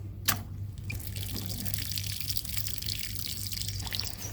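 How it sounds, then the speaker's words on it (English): Water poured over a freshly planted pineapple top in a shallow hole, a steady pouring rush with a steady hum beneath and a sharp click near the start. "Give it a little water."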